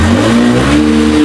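A car engine that had been slow to start now runs on a rainy road, revving loudly and close with a steady droning tone that dips and rises again, no voices.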